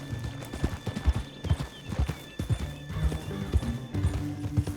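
Hoofbeats of a horse in the video game Red Dead Redemption 2, a clear uneven clip-clop rhythm at moderate distance with a brief whinny, continuing steadily across the clip.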